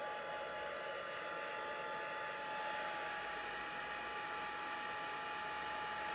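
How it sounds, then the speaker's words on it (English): A heat gun running on low speed dries alcohol ink on paper, giving a faint, steady airy whoosh with a soft motor hum and no change in level throughout. "I might speed it up a little bit with my hot gun"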